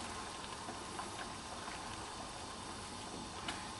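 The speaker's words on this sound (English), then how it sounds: "I want to turn it onto the full power, so it's bubbling away" Chicken and sweetcorn soup boils at full power in a pan, a steady dense bubbling hiss with small pops throughout, fairly quiet and continuous.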